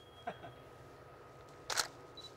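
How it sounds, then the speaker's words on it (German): A camera shutter clicks as photos are taken of a man at his home in Japan, two quiet bursts of clicking in an otherwise hushed room with faint background hum. "ob ich ein paar Fotos von ihm schießen dürfe"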